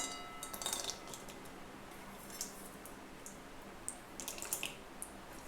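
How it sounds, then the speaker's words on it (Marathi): Cashews added to hot ghee in a pan for dry fruit ladoo, with faint clinks and light scrapes of a utensil against the pan in scattered bursts over a quiet background. "आपलं तूप छान मस्त असं गरम झालं आहे आता आपण याच्यामध्ये काजू टाकूया"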